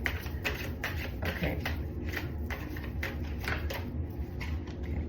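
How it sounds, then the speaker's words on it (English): Large deck of tarot cards being shuffled by hand, a steady run of soft riffling taps and flicks close up, with a brief spoken word over it. "I'm gonna shuffle some more"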